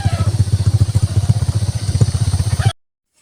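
A habal-habal motorcycle taxi on a ride, its engine throbbing in a fast, steady pulse up close and loud for almost three seconds before cutting off abruptly into silence.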